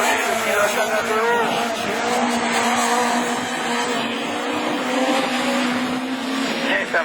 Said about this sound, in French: À la ligne droite là-bas, la Clio de Dorian-Launay